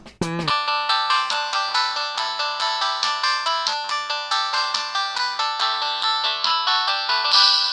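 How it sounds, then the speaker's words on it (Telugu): A mobile phone rings with an incoming call, its loud repeating electronic melody pulsing in an even rhythm from start to finish, alone and close. "ఈ సుబ్బుగడు ఫోన్ చేస్తున్నాడేంటి?"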